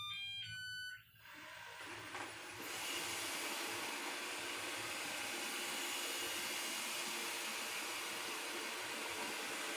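A Eufy 11 robot vacuum spot-cleaning a floor in widening circles, its motor rising after a brief beep pattern into a steady, loud whirring hum that holds without speech.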